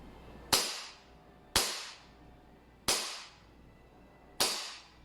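A BB pistol fires four sharp, loud shots at a paper target, evenly spaced about a second and a half apart, each crack trailing off quickly into quiet.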